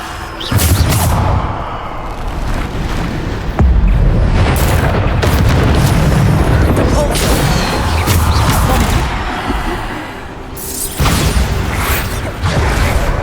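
The Bombarda spell in Hogwarts Legacy sets off heavy, booming blasts, several loud impacts with rumbling crashes and debris clatter in quick succession, close and powerful.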